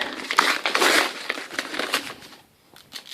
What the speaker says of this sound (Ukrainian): Так, так, я розірвав пакет цей.